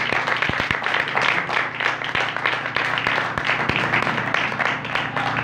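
Church congregation claps steadily in a sustained round of applause, loud and dense with scattered sharper hand claps standing out.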